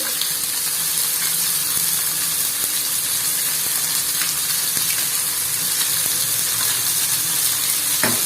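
Steady, loud sizzling of fish frying in hot oil, a continuous crackling hiss with occasional pops, no voices.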